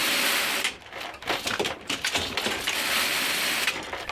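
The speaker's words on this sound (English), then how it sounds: "this machine is a 34 gauge straight bar knitting machine, an old stocking frame" An old 34-gauge straight bar knitting machine, a stocking frame, clatters with close, busy ratcheting and clicking, a dense mechanical rattle that eases briefly before picking up again.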